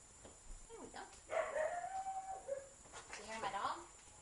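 A dog outside makes excited yelps and whining howls, a few rising and falling cries spread across the clip, somewhat distant and mixed with faint background noise.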